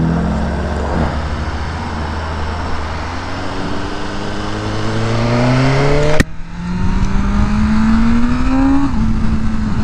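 A 2023 BMW M1000R motorcycle engine, not yet warmed up and held to a limited rev range, revs up in rising sweeps. It briefly cuts out with a sharp click, then climbs again loud and close.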